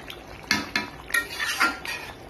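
Spicy red chicken curry is stirred in a metal pot with a ladle, making a few sharp clinks and scrapes spaced irregularly over a couple of seconds, heard close.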